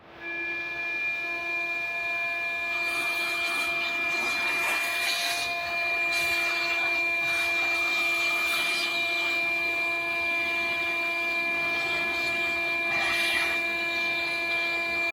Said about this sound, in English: I'm gonna vacuum all of the surface down in the lip a little bit